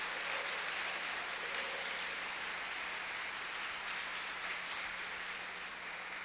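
Church congregation at a Portuguese-language worship service claps for the Lord, a steady, dense wash of applause heard from some distance, fairly quiet and even throughout.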